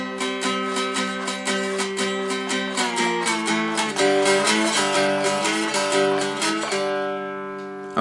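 A slide dulcimer plays the second line of a twelve-bar blues, its strummed chords ringing in a steady rhythm with sliding pitch shifts, clear and close with no voices.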